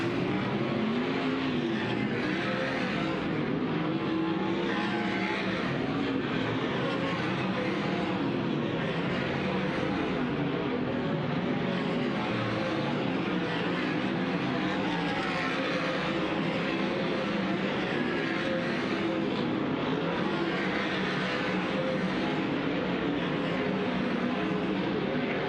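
Dirt track race cars run hot laps at Thunderbowl Raceway, heard as a steady, dense engine roar that continues without a break, distant and diffuse, with no clear single pass standing out.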